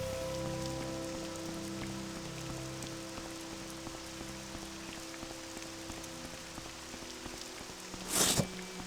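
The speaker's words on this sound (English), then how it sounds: "And it's raining." Steady rain patters continuously in the video game The Elder Scrolls III: Morrowind over a low droning background, with a brief louder burst of noise near the end.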